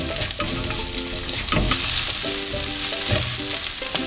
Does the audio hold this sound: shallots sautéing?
yes